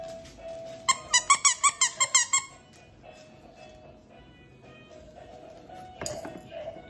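A squeaky monkey dog toy gives a quick run of about nine sharp, close squeaks, then goes quiet before a brief louder clatter near the end.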